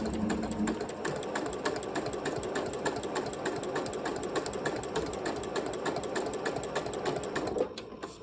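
A Janome sewing machine stitches steadily along a foundation-pieced quilt seam line, a close, continuous whirring hum with fast rhythmic needle clatter that runs evenly throughout and eases off at the very end.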